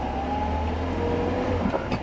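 Car interior drone while driving along a country road beside Hadrian's Wall at Birdoswald, a steady low engine and road hum with no one talking.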